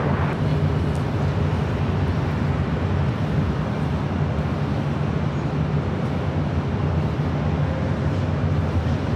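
An airliner taxis at Los Angeles International Airport, heard as a constant broad jet engine rumble and whine from a moderate distance, steady throughout without talk.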